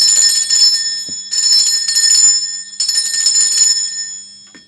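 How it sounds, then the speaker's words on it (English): A struck meditation bell rings out three times in a space-clearing ritual, each bright metallic tone sustaining and shimmering with long overtones before fading, loud and close with no talk. "I'm going to ring this bell just to cleanse the space around us"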